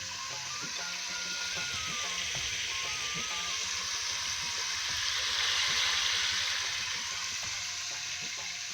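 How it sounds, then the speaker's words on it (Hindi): Spiced masala with chopped tomatoes fries in a pan, giving a steady, close sizzle with faint scraping and clicks running through the whole stretch. "अब मैंने मसाला जो भून लिया है, अब मैं इसे टमाटर काट के और टमाटर भी इसमें डाल।"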